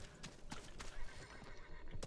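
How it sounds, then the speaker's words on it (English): In the battle royale video game Realm Royale, a summoned horse gives a whinnying neigh over quick clip-clop hoofbeats, fairly close and alone without any talk. "Because I need to call up a horse so I can move with any meaningful amount of gains along this terrain"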